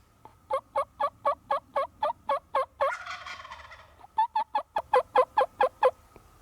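A wild turkey gobbles at its roost in the North Idaho mountains, calling in loud rapid bursts of about a dozen evenly spaced notes, pausing through a noisier stretch, then resuming with another rhythmic run, heard fairly close.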